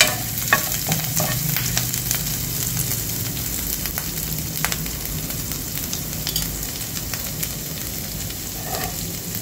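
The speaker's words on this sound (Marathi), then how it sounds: "याचा छान कच्चेपणा जातपर्यंत आपल्याला परतून घ्यायचं आहे" Veg momo filling of chopped vegetables sautéed in a pan, loud continuous frying sizzle with frequent spatula scrapes and clinks, close up and without voices.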